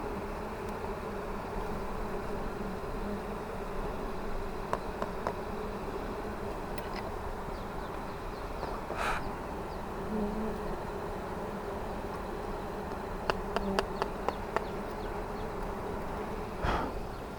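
Wild bees swarm around a low-hanging honeycomb nest, a steady close insect drone filling the air throughout, with occasional faint clicks and scrapes over the constant buzzing hum.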